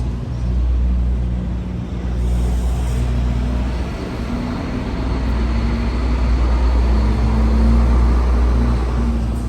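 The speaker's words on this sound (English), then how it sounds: "I'm gonna wait for that truck to pass." A truck passes on a road, a loud, sustained low rumble of engine and tyre noise that stays close and steady throughout, with no talk over it.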